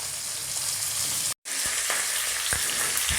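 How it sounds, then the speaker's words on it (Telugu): A tempering of green chillies, ginger pieces, curry leaves and asafoetida fries in hot oil with a loud, continuous sizzle, broken once by a brief silence, and a few light stirring taps follow, with no talking. "ఆయిల్ వేడెక్కగానే తీసుకున్న పోపు వేయించుకోవాలండి"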